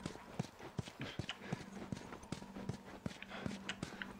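Horse hooves in The Last of Us clop in a steady walking rhythm, each strike crisp and close, over a low background hum with no speech.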